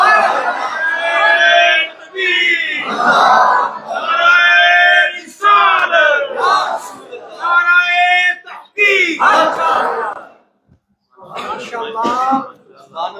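A religious gathering's crowd chants slogans in loud, repeated unison bursts, each phrase rising and breaking off in short pauses, close and dense with many voices together.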